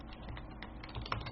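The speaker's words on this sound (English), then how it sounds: "So here we'll type in" Quick keystrokes on a computer keyboard while a graphic designer types text into a business card layout, a short close burst of steady clicking with no voice.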